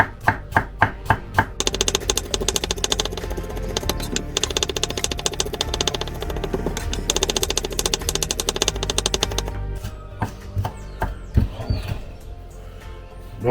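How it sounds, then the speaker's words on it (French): A knife chops shallot finely on a board for a wood-fire shellfish dish, loud rapid regular knocks with brief pauses and a burst of faster chopping, close and alone without talk. "Tu viens prendre un couteau et tu vas venir émincer ton échalote."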